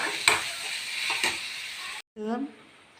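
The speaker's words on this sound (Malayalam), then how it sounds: "കൊത്തിവെച്ച സബോള, കുരുമുളക് ഇതിനെ ഒന്ന് വഴറ്റാൻ പോവുക" Garlic, chopped onion and pepper are sautéed in a pan with a bright, hissing sizzle and two quick stirring scrapes. A brief silence follows, then a voice begins to speak.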